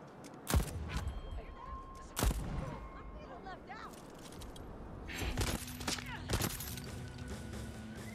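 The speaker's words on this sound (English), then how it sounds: "Who's shooting? Where's he shooting from?" Gunfire in the Deathloop video game at Fristad Shore: a few scattered sharp shots crack out over a noisy outdoor ambience, with a burst of clattering action near the end.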